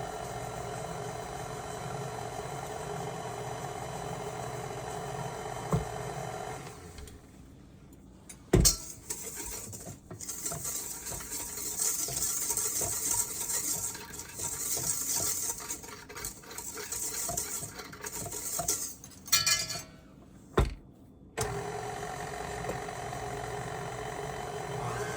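Electric mixer running on low while combining chocolate chip cookie dough ingredients in a bowl, a steady whirring hum broken by a few sharp clanks and pauses, with no talking.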